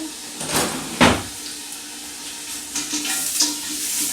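Olive oil sizzles in a pan with a steady frying hiss, broken by a few sharp clinks of a spoon against the pan, close by and with no talking.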